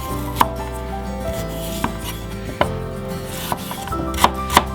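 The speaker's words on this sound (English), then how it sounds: "Now cut the turmeric into thin slices." A knife slices fresh turmeric root into thin pieces on a board, giving a series of close, sharp chopping knocks at irregular intervals with a steady low hum underneath.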